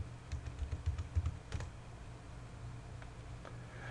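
Quiet keystrokes on a computer keyboard tap out a password in a short cluster, followed by a few scattered clicks against soft room noise.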